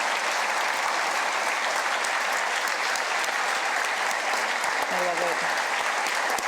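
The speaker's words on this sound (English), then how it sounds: "Please give them a round of applause for allowing us to tell their story." Sustained audience applause fills a political state address in South Dakota, a dense steady clapping from a large crowd throughout, with a brief voice speaking near the end.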